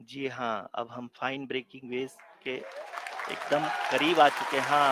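Applause swells in mission control during the Chandrayaan 3 moon landing, a rising wash of clapping that builds over the second half after someone speaks, with his voice continuing over it.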